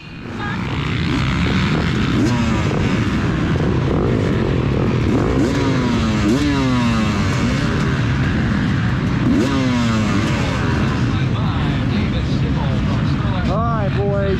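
Several dirt bike engines rev hard together at a GNCC race start, their rising and falling whines overlapping loudly and continuously, with a voice talking over them.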